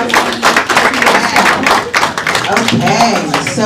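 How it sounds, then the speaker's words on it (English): A scholarship recognition audience gives a lively round of applause, close dense clapping with cheers and voices mixed in throughout. "Round of applause."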